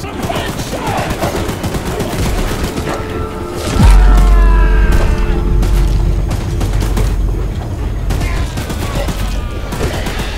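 Sustained loud bursts from a mounted gun firing at the monster train Charles in the Choo-Choo Charles video game, rapid shots with heavy booming impacts and rumble, with voices shouting over it.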